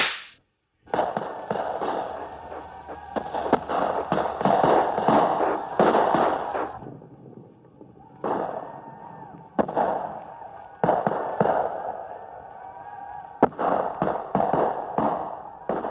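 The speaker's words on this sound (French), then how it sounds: "Qu'est-ce que ça veut dire, cette fusillade, Fulbert?" A gunfire volley, a fusillade on a film soundtrack, bursts as dense bouts of loud crackling shots, broken by brief lulls, heard alone without talk.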